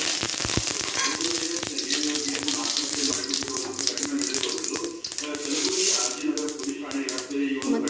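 Mustard seeds crackle and sizzle in hot oil, a steady, dense frying hiss with sharp pops throughout.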